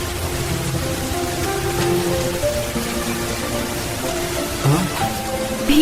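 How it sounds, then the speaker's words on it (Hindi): Steady rain pattering on a road surface, a continuous hissing wash with a faint low tonal hum underneath. "सड़क पर बारिश की आवाज बढ़ने लगी।"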